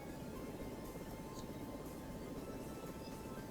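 Helicopter engine and rotor drone from the rescue game Search and Rescue 4, a steady, dense rumble holding at the same level throughout as the Coast Guard helicopter sets down on a runway.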